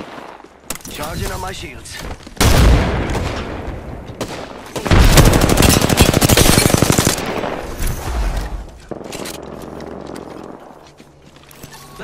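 Loud, sustained automatic gunfire and booming blasts in a shooter video game come in heavy bursts with brief lulls, while a voice speaks briefly between the volleys.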